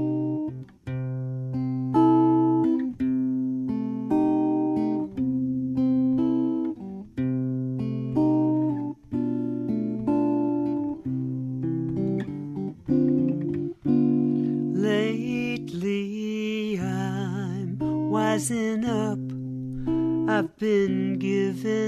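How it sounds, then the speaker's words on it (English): Guitar working through the chord changes of the song "Had Enough of Love", with steady strummed chords in a repeating pattern, joined toward the end by a warbling melodic line, with no talking. "listen to these chord changes"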